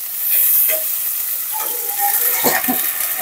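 Prawns, green chili and onion sizzle in a hot pan, a steady close hiss of frying with occasional stirring scrapes and crackles.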